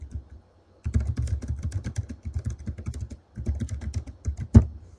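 Rapid clicking of keys on a computer keyboard as alt text is typed, in uneven bursts with a short pause near the start and another midway, ending on one louder keystroke; close and clear, with no voices.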